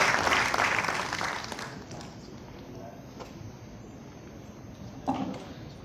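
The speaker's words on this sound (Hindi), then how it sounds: "मैं चाहता हूं जरा जोरदार तालियों से आप उनका अभिनंदन करें।" A poet is welcomed at a Hindi poetry gathering with a burst of audience clapping that swells at first, then thins and fades into room murmur, with a brief stray clap near the end.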